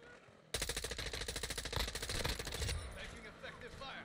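Close, loud automatic gunfire from the battle-royale game Warzone rattles in a rapid, evenly spaced burst for about two seconds, then stops abruptly, leaving quieter ambient battle noise behind.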